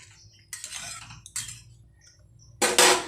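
A spoon stirring ghugni, a spiced pea curry, with sugar in a pan, a few separate scraping and clinking strokes against the metal, close and fairly loud, with quiet gaps between them.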